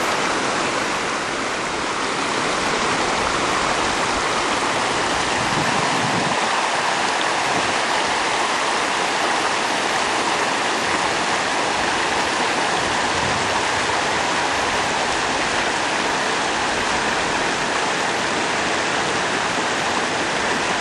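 A river at Semuc Champey, Guatemala, pours over rocks in a loud, continuous rush, the churning water holding steady throughout with no speech.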